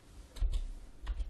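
Typing on a computer keyboard, a few quick soft clicks in two short bursts, close and quiet with no one speaking.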